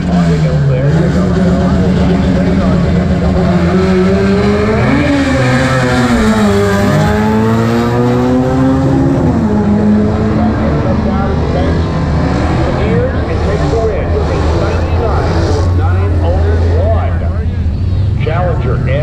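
A 2018 Mustang GT and a Challenger SRT 392 roar loudly as they launch in a drag race, with engine pitch climbing and sweeping through gear changes in one sustained, close, powerful run.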